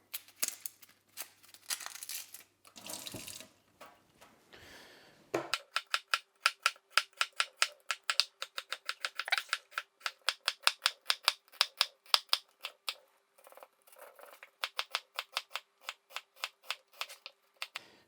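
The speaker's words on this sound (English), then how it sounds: "Time to chop the onion. See if we can peel this." An onion being peeled by hand for a Christmas recipe: dry papery crinkling and tearing at first, then a long run of quick, rhythmic crackles and snaps, close and clear, with no talking.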